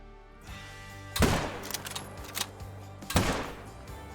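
Two sharp rifle shots ring out in the Call of the Wild hunting game, fired at a walking buck, each a loud crack with a short rolling tail over a low ambient bed.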